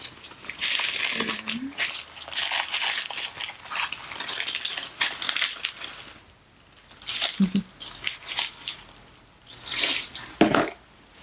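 Tissue paper rustles and crinkles in bursts as LV and Dior purchases are unboxed, close and crisp, with pauses between handfuls and a faint voice at moments.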